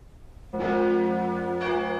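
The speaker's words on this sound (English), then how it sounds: "churches all over the north rang their bells backwards" A church bell rings out loudly with a rich, sustained tone, and a second strike comes partway through and layers over the lingering hum.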